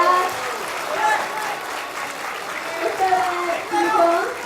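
Applause from a crowd at a political party leadership candidacy announcement, continuous clapping with voices and a child's speech mixed over it.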